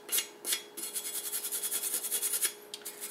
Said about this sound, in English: we're gonna take our trusty wire brush. We're gonna clean the area where